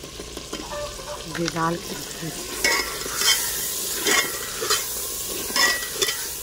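Turmeric, salt and other ingredients are mixed together in a sizzling pan, with repeated scraping stirs over a steady fry. Someone speaks briefly near the start, close.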